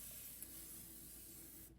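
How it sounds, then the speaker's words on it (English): A spray bottle filled with plain water releases a fine mist in one steady, close hiss that holds for nearly two seconds before cutting off, with no talking. "I have my spray bottle here. It's just water and it is a pretty fine mist."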